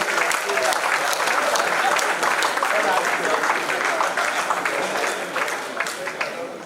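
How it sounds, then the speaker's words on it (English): Dense audience clapping at a Town Planners Day gathering, steady and strong for several seconds before easing slightly, with some voices mixed in beneath. "Please, a round of applause for him."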